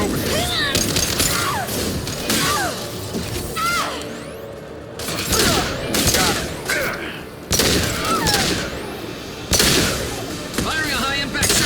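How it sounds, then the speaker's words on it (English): Loud, rapid gunfire bursts of high-impact shots in the sci-fi shooter Mass Effect 2 crack and echo in repeated volleys with impacts and mechanical clanks, while in-game voices shout over the combat. "Firing a high-impact shot."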